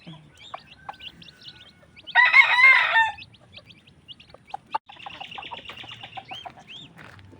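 Chickens on a farm around a hen with newly hatched chicks: soft clucks and thin high peeps scattered throughout, with a louder burst of rooster-like calling in the middle, close and clear.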